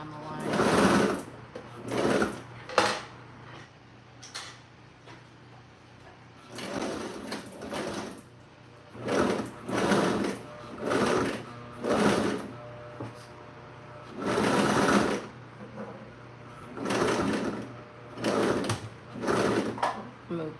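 A sewing machine stitches pillow fabric in repeated short bursts of fast whirring, each lasting a second or two with pauses between, close by, while a person talks quietly in the gaps.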